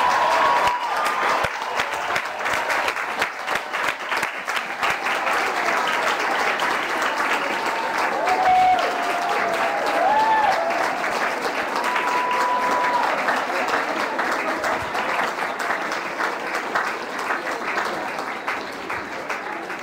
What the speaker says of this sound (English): please join me in one last round of applause for the class of